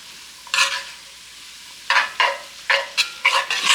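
Crumbled feta cheese being stirred into a hot skillet, a quiet pause and then several short bursts of scraping and sizzling as a utensil works the pan, close by with no voices.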